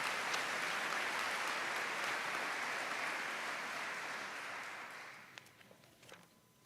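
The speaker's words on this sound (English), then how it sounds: "Let's give everybody involved in that a huge round of applause." An audience at a high school academic awards event applauds a spring musical production, a full, sustained round of clapping that gradually fades away toward the end.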